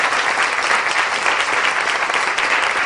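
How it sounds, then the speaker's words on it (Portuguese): A church congregation gives sustained, loud applause in welcome, a thick, even roar of many hands clapping close by for the whole stretch. "Um aplauso para nossos irmãos do Uruguai, que estão aqui muito próximo"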